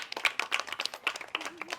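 Clapping from the audience at a Brahma Kumaris spiritual talk, a scattered run of sharp hand claps with uneven rhythm, moderately loud, lasting under two seconds.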